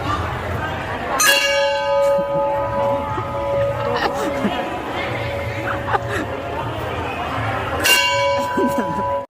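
A large temple bell rings out twice with long, humming resonance, struck several seconds apart, while a crowd chatters in the background at a fair.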